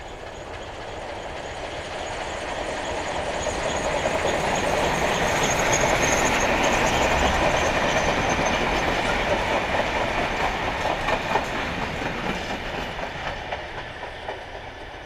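A class 95 steam locomotive, 95 027, hauls a lime freight train past a level crossing in the Harz foreland. A loud, rolling rumble with clickety-clack of the wagons swells as it nears, stays close, then slowly fades.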